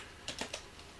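A few quick, light keystrokes on a computer keyboard while code is being entered, three or four soft clicks close to the microphone in an otherwise quiet room.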